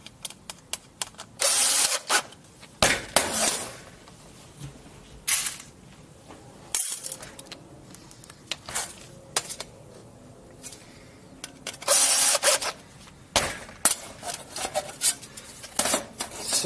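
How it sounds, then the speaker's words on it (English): Screws are driven into a sheet metal reducer in several short, harsh grinding bursts separated by pauses, close and fairly loud, with small metallic clinks in between. "I'm gonna put some screws in it."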